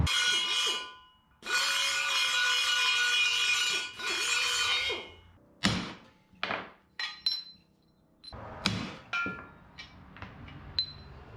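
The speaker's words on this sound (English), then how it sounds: "Let's figure out how to whack these bushings into here." Suspension bushings are driven into custom suspension arms on a 1961 Parkwood wagon. A long harsh grinding-like noise comes first, then a series of sharp metallic whacks, some with short ringing tails, spaced irregularly and close.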